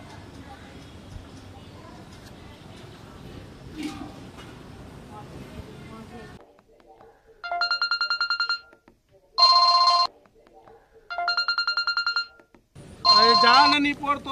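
After some low background rumble, a phone rings in four loud electronic bursts separated by short pauses, close by.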